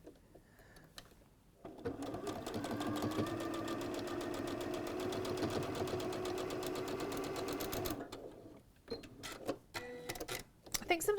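A domestic sewing machine fitted with a quarter-inch foot runs steadily for about six seconds, stitching quilt pieces with a fast, even, whirring rattle. It starts and stops abruptly, with quiet handling and light talk before and after.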